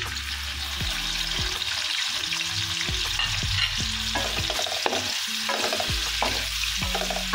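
Sliced hotdog fries in hot oil for pork menudo while a utensil stirs and scrapes the pan in repeated strokes over a constant loud sizzle.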